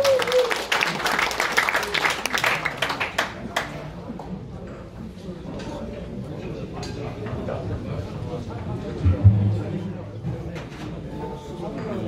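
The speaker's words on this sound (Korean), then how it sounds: "박수 한번 힘차게 모십시오" Energetic audience applause greets a traditional Korean music troupe leader introduced at a national stone exhibition event. The clapping is strong for about three seconds, then fades under a host's voice and room chatter.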